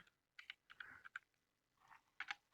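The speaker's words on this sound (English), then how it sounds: "I'm typing terrible today." Someone types on a computer keyboard in short, irregular bursts of soft clicks, close by and quiet, with pauses between the runs and no talking.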